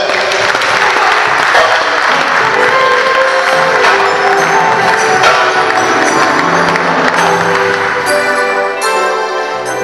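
A church congregation applauds loudly and without a break at an evangelist's consecration ceremony. Music swells under the clapping toward the end.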